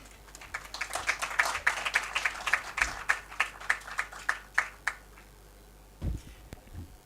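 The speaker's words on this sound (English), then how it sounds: "Jamani, another round of applause to Asha Binala and the team at Media Convergency" Audience applause at an innovation and tech forum: a crowd of hands clapping in a steady, pulsing rhythm for about five seconds at moderate distance, then fading into near quiet with a couple of soft thumps.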